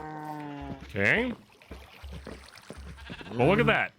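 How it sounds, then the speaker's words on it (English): Minecraft cows and chickens spawned in a modded world, with a couple of loud bleat-like moos around the first and last second, separated by quieter stretches and light game noise. "We got natural spawns of cows and chickens"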